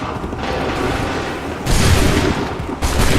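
Soldiers fire a musket volley in Assassin's Creed III: two loud, broadband crackling volleys erupt close by, one about halfway through and a second near the end, over a rumbling battlefield din.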